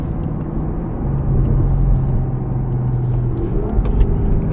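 A 640-horsepower Cadillac CTS-V rumbles loudly along the road from inside the car, its engine note swelling as it accelerates and then holding a steady, deep drone with no talking.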